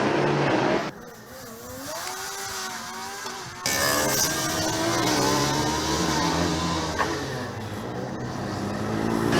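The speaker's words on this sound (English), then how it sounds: "We see the fast cars driving together." Formula Student race cars, combustion and electric, run in the 2018 German endurance event. Engines whine and rev continuously as they pass at close range, with a sharp jump in loudness partway through as a louder car arrives.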